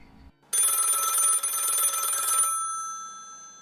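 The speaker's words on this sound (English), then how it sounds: "The phone call sounded something like this." A bright old-style telephone bell rings in one continuous burst of about two seconds, loud and close, then its metallic tone fades out.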